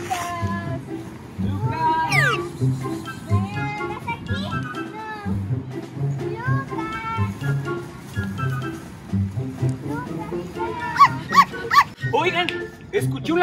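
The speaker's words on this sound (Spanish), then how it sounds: "¡Escuché un ladrido!" Children talk excitedly while a dog barks several times at uneven intervals outdoors during a kids' search scene, the barks mixed in with the voices.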